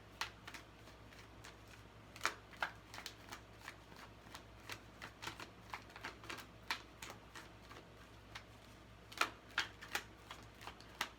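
A deck of cards is shuffled for a card reading, making repeated crisp riffling snaps in quick bursts that stand close and clear over a quiet background, with no speech.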